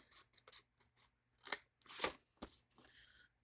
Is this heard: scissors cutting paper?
yes